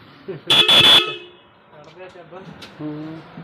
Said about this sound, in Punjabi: ਲੋ ਵੀ ਲਵਾਤੇ ਹਾਰਨ ਵੀ